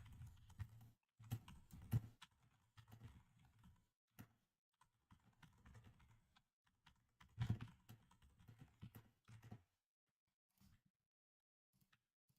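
Computer keyboard typing comes in scattered bursts of quick, soft key clicks, fairly close but quiet, with pauses between runs and near silence toward the end.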